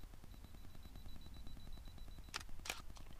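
A camera shutter fires on a 2-second timer during wetland landscape shooting, with two short, sharp clicks near the end over quiet outdoor ambience and faint ticking before them.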